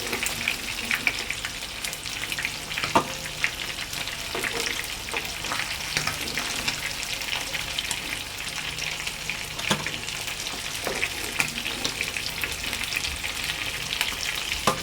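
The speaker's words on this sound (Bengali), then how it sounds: "আমার মাছ ভাজা হয়ে গেছে" Fish fries in a pan, a steady, loud, crackling sizzle throughout with occasional utensil clicks and stirring noises over the top, and no one talking.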